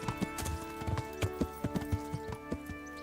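Horse hooves clip-clop at a steady walking pace in the video game Kingdom Come Deliverance, a moderate run of even, distinct thuds over a faint background hum.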